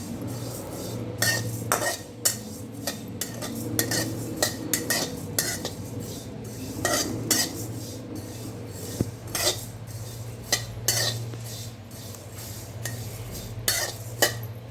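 Fenugreek seeds and grains dry-roasting in a pan for thalipeeth flour, with repeated sharp scrapes and clinks of a spoon stirring against the metal over a steady low hum, loud and close.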